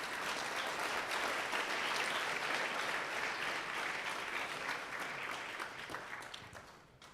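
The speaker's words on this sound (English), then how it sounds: "Let's please give a warm round of applause" An audience at a gala applauds, dense steady clapping from many hands filling the hall before gradually thinning and fading out near the end.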